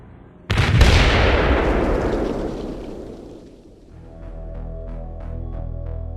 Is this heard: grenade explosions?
yes